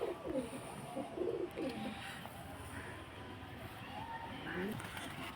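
A pigeon coos softly in a loft in several low, throaty bursts, its wing fluttering faintly, with quiet background noise.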